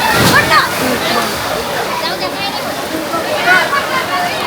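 Close, loud water splashing and sloshing inside a flooded tent with heavy rain hissing throughout, while a voice talks over it.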